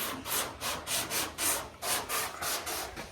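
A car fender being block sanded by hand, with rhythmic back-and-forth scraping strokes about three per second, steady and fairly close, no talking.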